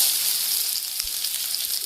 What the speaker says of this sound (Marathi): कांदा चिरून घेतल्यानंतर त्याला जिरे मोहरी टाकली आणि नंतर कांदा परतायला घेतला